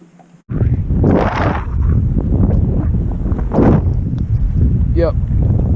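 Steady, roaring wind buffets the microphone on a boat trolling for crappie on a lake. The gusty rush is loud and constant, and a voice is faintly heard beneath it.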